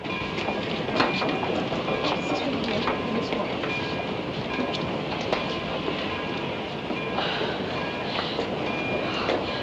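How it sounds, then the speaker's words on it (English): A passenger train arrives at a station platform, rumbling and clattering steadily nearby, wheels clicking over the rails with occasional faint squeals, a continuous heavy mechanical roar. "Sunset Limited, arriving on track number 2 from New Orleans."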